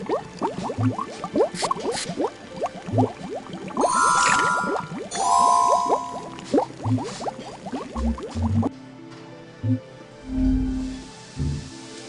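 Steady bubbling and rolling boil of water, loud and close, with a few clinks and short tonal game sounds layered on top, ending in quieter simmering, from the hidden-object game Hidden Mysteries: The Fateful Voyage of Titanic.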